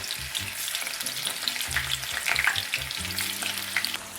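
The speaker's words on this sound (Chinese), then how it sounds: "放入豆腐片煎制。" Tofu slices pan-frying in hot scallion oil, a steady dense sizzle with crackling pops and occasional low clinks of a utensil against the pan.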